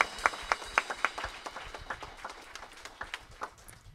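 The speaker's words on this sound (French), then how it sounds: "Est-ce qu'on peut les applaudir" Audience clapping during a church service, a scattered burst of hand claps with sharp accented beats early that thin into lighter, uneven applause, heard at moderate distance with no one speaking.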